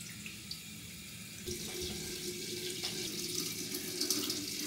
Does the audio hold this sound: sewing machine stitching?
no